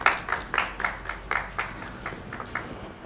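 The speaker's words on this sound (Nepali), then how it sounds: "यसो ताली बजाउँ सुन्दर दाई" A small group claps for a lucky draw winner on a Nepali blind date game show. Light, scattered handclaps arrive in uneven bursts and fade slightly toward the end.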